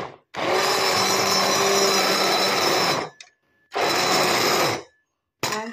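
An electric beater mixes tomato soup made from tomatoes, carrots and potatoes, whirring loudly and close in two long bursts of about three and one seconds, with a short pause between, then starting again at the end.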